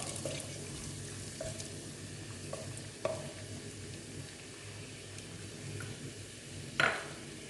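Cashew nuts fry in a pan until light brown for Thalassery chicken biryani, a soft, steady sizzle broken by a few light clinks and stirring knocks, with a sharper clatter near the end and no talking.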